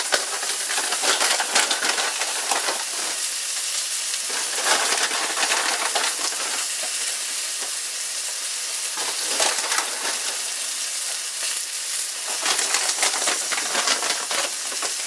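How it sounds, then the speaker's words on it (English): Crispy fried onions sprinkled over a hamburg steak sizzling in a cast iron pan: steady loud frying hiss with dense crackles and pops throughout, close up, no talk. "I'm gonna sprinkle on some of these crispy onions"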